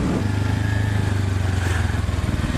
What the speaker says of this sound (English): Just hate that stock pipe sound